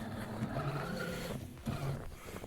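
An Axial SCX6 RC crawler's electric motor whines and revs in surges as the truck churns through snow drifts, a close, buzzing drone with a brief dip and renewed burst partway through.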